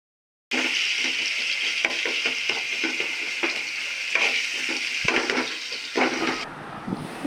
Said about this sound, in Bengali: এখন চিংড়ি মাছটা দিয়ে ভালো করে ভেজে নিতেছে।